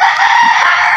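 Chickens and a rooster crowing loudly and continuously at close range, with clucking mixed in, in a yard seen from a house window; a cat is also about.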